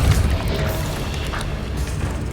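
A Depulso force spell blast from the Hogwarts Legacy video game: a heavy booming thump at the start, then a sustained rumbling roar that holds steady, loud and close.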